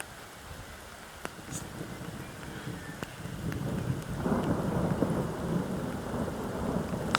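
A powerful thunderstorm during storm chasing in the UK in May 2024, with low rumbling thunder building under a steady wash of rain that grows heavier toward the end.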